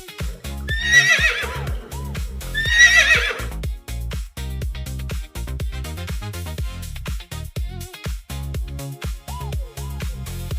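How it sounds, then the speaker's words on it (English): A horse gives two loud, shrill whinnies near the start, set over a repetitive rhythmic music bed that continues beneath for the rest of the clip. "It's a horse."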